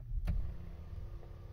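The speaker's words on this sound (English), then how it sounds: "So now what you have to do is start ignition." Ford Mondeo MK5 ignition starting: a short sharp burst, then a low steady hum with a faint tonal whine that continues to the end.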